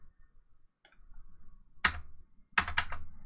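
Keys on a computer keyboard pressed in a few sharp, close clicks and short clusters, separated by near-silent gaps, with no talk.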